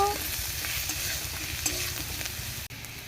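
Potato chunks with turmeric stirred in a hot frying pan, a steady close sizzle with scraping strokes of a spatula running throughout, one brief dip near the end, no talking.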